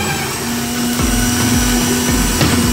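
A blender grinding sugar for an Oreo shake, a loud continuous motor whine with a steady hum that holds throughout the short stretch, close and alone without talk.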